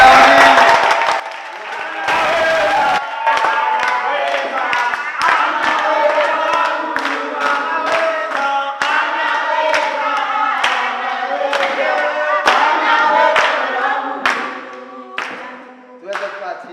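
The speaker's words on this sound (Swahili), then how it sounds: "Wapi makofi ya amini?" A church congregation claps loudly and continuously, with sharp individual claps and cheering voices over a dense crowd sound that fades toward the end.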